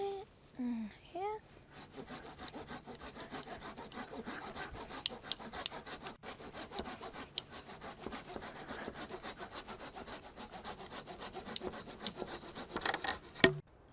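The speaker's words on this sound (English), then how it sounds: "Now we're going to trim off the end." Rapid rhythmic saw strokes cut through the end of a log crossbeam on a lean-to shelter outdoors, a steady rasping back-and-forth that runs continuously and close, after a brief voice at the start.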